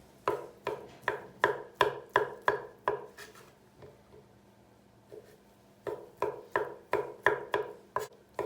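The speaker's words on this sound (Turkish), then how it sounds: "Bunları ince doğrayacağız." A knife chops chicken liver rapidly and rhythmically on a cutting board, pausing briefly mid-way before the steady chopping resumes.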